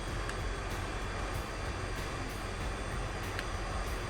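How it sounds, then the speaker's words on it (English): Beechcraft B60 Duke twin's engine running in a flight simulator game, a steady, faint, unbroken drone with a few soft clicks, no talk. "So we've got one engine up and running."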